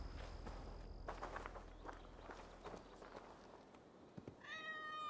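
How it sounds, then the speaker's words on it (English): Cats in Assassin's Creed Valhalla meow, with a drawn-out meow near the end, over steady game ambience and the soft patter of footsteps. "So many cats. So many cats."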